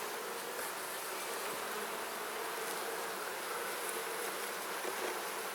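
Dense, steady buzzing of many honeybees swarming close around an open hive, a continuous hum with no pauses and no voices.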